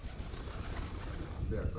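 Pigeons coo softly at a morning feeding, with low, muffled cooing under steady outdoor background noise and a brief rise near the end.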